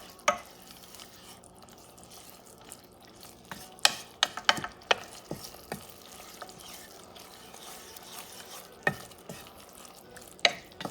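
Scallops, shrimp and tomato sauce cooking in a pan, with soft sizzling under a series of sharp scraping and clacking stirring strokes, scattered irregularly and heard close at fairly low volume.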